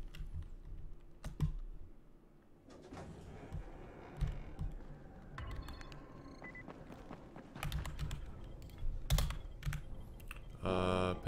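Typing on a computer keyboard during a Dying Light speedrun, with steady close key clatter and irregular louder bursts of clicks running for about eleven seconds, no voices.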